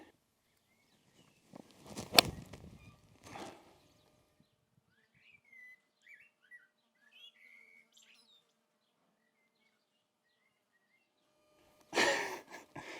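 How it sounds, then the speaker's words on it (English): A bird on a New Zealand golf course gives a series of short, faint chirping calls in a quiet outdoor setting, bracketed by a few louder bumps and rustles. "Could anyone comment below, what kind of bird is that?"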